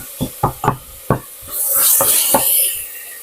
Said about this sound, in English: Saute those, sweat them down a bit.